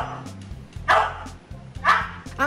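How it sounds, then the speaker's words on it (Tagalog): A dog barks a number in answer to an arithmetic question, giving two loud, distinct barks about a second apart over quieter background murmur. "Ang aso ito, mistulang math genius at kayang itahol ang mga numero."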